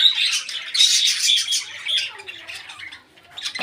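Several birds squawk and chirp near a home chicken coop, a steady run of close, bright, overlapping calls with a few sharper cries toward the end.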